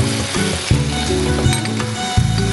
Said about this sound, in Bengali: এবার একটু ভালো করে এটাকে ভেজে নিতে হবে